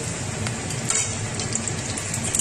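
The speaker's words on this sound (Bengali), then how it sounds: "গরম মশলা ফোড়ন দিয়ে দেবো, তেজপাতা ফোড়ন দিয়ে দেবো" Dried whole garam masala, bay leaves and cumin tempering in hot oil for a prawn and banana flower chorchori, crackling and sizzling steadily up close with small sharp pops throughout, no voices.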